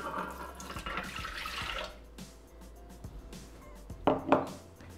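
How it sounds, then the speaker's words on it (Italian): Water poured into a Thermomix mixing jug while making pizza dough, a steady close splashing pour that tapers off, followed by a couple of brief sharper clinks near the end. "Iniziamo la ricetta mettendo all'interno del boccale l'acqua."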